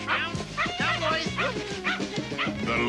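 Dogs barking and yipping excitedly in a dog food radio advert, rapid overlapping barks and whimpers throughout, close and busy, with some voice mixed in.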